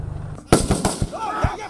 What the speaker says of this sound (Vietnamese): Ngay sau tiếng nổ lớn của lựu đạn hơi cay